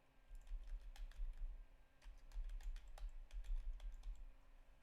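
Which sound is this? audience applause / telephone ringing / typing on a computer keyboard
typing on a computer keyboard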